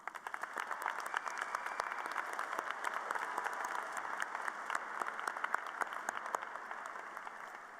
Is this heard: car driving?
no